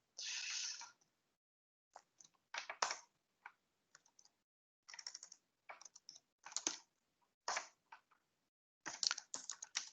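Computer keyboard being typed on in short irregular bursts of close, crisp key clicks separated by pauses, entering a command on a Linux system.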